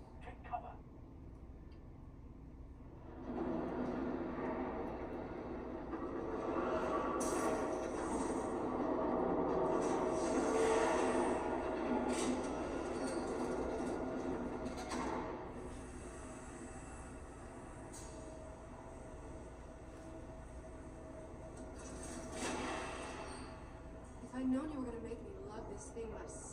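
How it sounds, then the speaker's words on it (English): A train roars past in the video game Batman: The Telltale Series. A long, loud rumble with squealing wheels swells and fades over about twenty seconds, with voices faintly present at times. "There's a train coming. Take cover."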